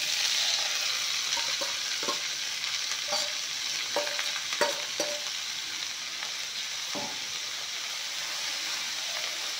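Spinach leaves hitting hot refined oil in a pan, a dense steady sizzle with occasional crackles and pops, continuous and close for several seconds.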